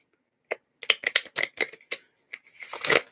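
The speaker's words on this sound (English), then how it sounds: "stop shuffling me" Tarot cards are shuffled in quick bursts of riffling and flicking, loud and close, with short pauses between the bursts and a longer burst at the end.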